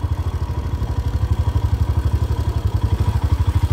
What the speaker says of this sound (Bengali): এর ওপর দিয়ে বাইক চালানোর একটা আলাদাই ইচ্ছা ছিল, তো ইচ্ছাটা পূরণ হচ্ছে